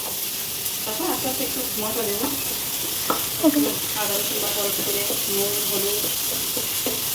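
Onions frying in a pan at home, a steady hiss of sizzling oil with intermittent stirring scrapes and light clinks, fairly quiet and continuous.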